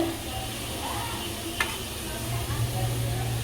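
Cut pieces of taro (kochu) fry in a pan with a continuous crackling sizzle. Occasional stirring scrapes and a brief sharp tick cut through, with a low hum underneath.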